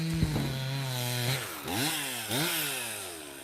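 A chainsaw cuts through a maple log at close range, its engine revving and bogging in rising and falling sweeps as the chain bites into the wood and briefly stalls.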